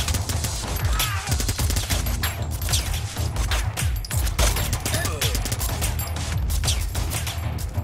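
Gunfire in the shooter game RICO, a loud dense fusillade of rapid shots and bangs nearly nonstop, with someone speaking over the action.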